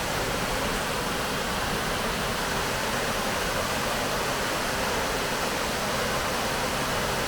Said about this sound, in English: The water was coming down from a small fall, which runs off the bigger fall.